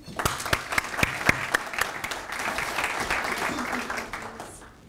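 Audience applause greets a speaker at a workplace talk on respectful behaviour, starting with a few sharp individual claps and swelling into steady, full clapping from a room of people before tapering off at the end.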